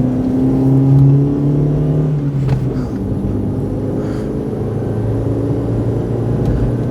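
A Proton car racing up the Shelsley Walsh hill climb at the Hagerty Hill Climb 2025, its engine note droning steadily and then dropping into a broad, rumbling roar that carries on without talk.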